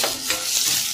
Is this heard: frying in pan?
yes